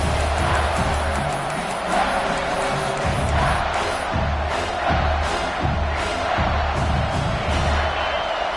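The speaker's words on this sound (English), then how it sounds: "the crowd really making some noise now" A large stadium crowd at an American football game roars and cheers continuously, a dense wall of voices with swelling shouts, loud and sustained throughout.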